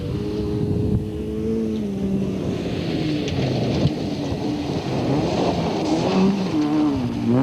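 A rally car in an A5 class runs flat out on a rough stage at the Toyota Dealer Cape Rally 2004. The engine drones loudly and steadily and rises and falls in pitch as it revs, with wind and road noise around it and no talk.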